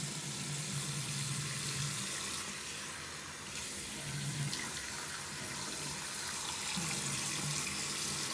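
Water runs steadily from a tap into a sink while a face mask is washed off, a close and continuous splashing hiss with slight shifts as hands move through the stream; no voices.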